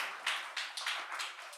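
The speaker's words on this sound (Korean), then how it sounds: "박수 한번 쳐주세요" Brief, scattered clapping from a small church gathering, a few quick bursts of hands close by and fairly quiet, with no talking over it.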